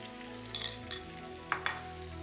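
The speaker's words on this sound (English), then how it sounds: "Now we're gonna add in all of that Italian sweet sausage. Next is we're gonna add in some fresh minced garlic." Italian sweet sausage with fresh minced garlic frying in a pan, a soft, steady sizzle punctuated by a few brief clinks and stirring scrapes.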